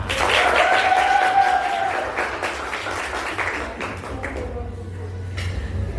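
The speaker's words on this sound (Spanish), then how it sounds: "Aplausos para que quede en el video" Hand clapping from one person, loud and close: rapid claps for about four seconds, then thinning out and fading while faint background sound remains.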